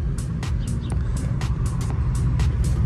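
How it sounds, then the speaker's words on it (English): A Cadillac XLR with a Northstar V8 rumbles steadily up close with a low droning hum while driving, faint repeated thumps or clatters recurring over it. "It is a Northstar V8."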